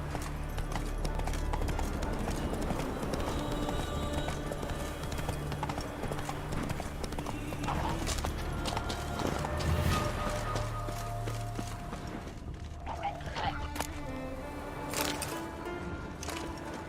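Roach the horse gallops in The Witcher 3, hooves pounding in a fast, steady clip-clop rhythm close up, with game music and ambient layers beneath.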